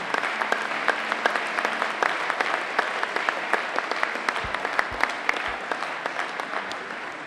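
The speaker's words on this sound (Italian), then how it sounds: "Io vi prego di fare un applauso a loro" Audience applause at the 40th Mendrisio d'Oro ceremony and bike show, loud sustained clapping from a large crowd with crisp individual claps standing out throughout, no voices over it.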